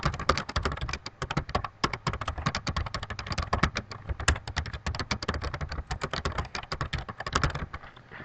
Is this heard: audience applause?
no